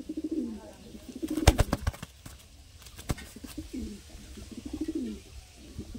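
Madras racing pigeons cooing in a loft, soft low throaty coos repeated in short phrases, close by, with a few sharp knocks and faint background noise between calls.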